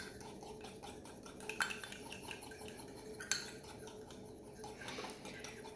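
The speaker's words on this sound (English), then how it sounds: "I'm just using my fork to scrape it." A fork scrapes the inner sides of a mug to gather the ingredients, making faint, repeated light scratches and clinks in a quiet room.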